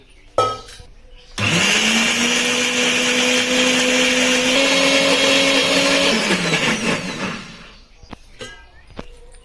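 A mixer grinder grinds coconut and onion paste with a little water added, for an Andhra fish curry: a loud, close motor whine that holds steady for about five seconds, shifts pitch partway through and then winds down, with talk around it.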